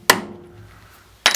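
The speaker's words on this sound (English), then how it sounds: "I'll center punch it and drill it" A worn center punch strikes a metal part for a printing press motor in a garage workshop, giving two sharp, close metallic taps about a second apart with quiet between.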